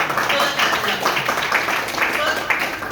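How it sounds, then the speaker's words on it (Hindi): An audience gives hearty applause to Dhirendra sir at a business talk, a steady, fairly loud wash of many hands clapping throughout, with a voice faintly mixed in. "हम चाहते हैं सर के लिए जोरदार ताली होना चाहिए।"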